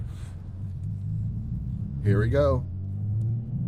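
Right-hand-drive Mazda RX-7 accelerating with a steady low engine rumble, a brief rise and gear change partway through as it goes from second to third, with voices talking over the engine.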